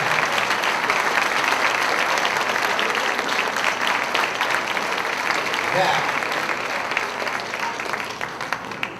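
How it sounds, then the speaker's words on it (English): Sustained applause from an audience at a community talk on climate change and solar power in Ajijic, Lake Chapala, Mexico, clapping steadily and loudly for the full stretch before easing slightly at the end. "please stand up and be applauded by everyone else"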